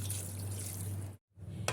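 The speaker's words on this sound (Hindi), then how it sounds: "अब 1 कप के करीब इसमें पानी डाल देंगे" Water pours from a cup into a cooking pot for gobhi gosht, a cauliflower and mutton curry, as a steady close splashing stream that stops briefly, then resumes with a short splash.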